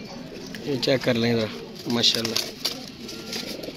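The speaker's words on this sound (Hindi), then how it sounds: "ये कबूतर है जी माशाल्लाह, देख लें आपके सामने" Pigeons coo in soft repeated throaty phrases close by, while someone talks over and between the calls.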